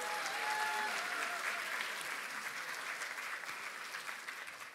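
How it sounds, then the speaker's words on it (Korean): An audience at the Democratic Party's 70th anniversary ceremony applauds in a welcome, a dense, sustained round of clapping that slowly thins, with a faint tone at the start. "다시 한번 환영의 박수 부탁드립니다."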